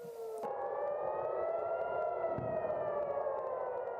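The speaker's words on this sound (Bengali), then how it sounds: "শনিবার ভোরে হামলা চালানোর আগে বাসিন্দাদের সতর্ক করতে বাজানো হয় সাইরেন" Civil defense air raid siren wails at dawn to warn residents before a missile strike near Tel Aviv, a sustained rising-and-holding tone heard from a distance, steady and alone after a brief cut at the start.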